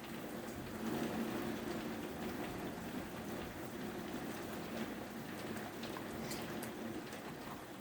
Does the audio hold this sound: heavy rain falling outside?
yes